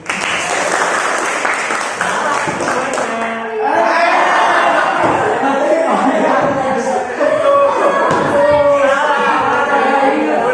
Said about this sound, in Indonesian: Bapak minta tolong untuk tepuk tangan semua.